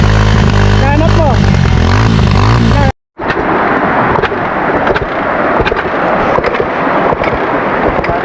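Enduro trail motorcycles rev loudly on a muddy mountain trail, with harsh engine roar and crackling throughout. A sharp cut breaks the sound partway through, and voices talk over it.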